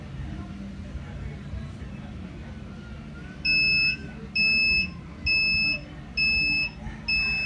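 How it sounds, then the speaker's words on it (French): An XM-18 incubator temperature controller alarm beeps five times in a steady rhythm as the temperature rises, over low background hum and faint voices. "voyez que l'alarme a commencé par nous signaler"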